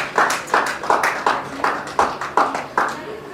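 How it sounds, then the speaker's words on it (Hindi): Audience clapping in unison at a birthday party in London, about eight sharp, evenly spaced claps in a steady beat, moderately loud and close. "तालियां थोड़ी और जोर से होनी चाहिए।"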